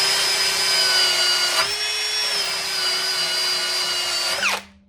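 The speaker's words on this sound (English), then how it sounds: "I want to try to drill these enough" A power drill whines at a high steady pitch while boring holes in metal parts, running continuously at close range with slight speed dips before winding down abruptly near the end.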